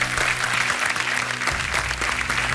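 A studio audience on the KBC quiz show claps in sustained, dense applause, loud and steady throughout, with a low musical tone running beneath.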